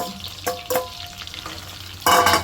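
Prawns are fried again in well-heated oil for a pickle, making close, bursting sizzles with a couple of quick crackles, then a louder surge of frying near the end.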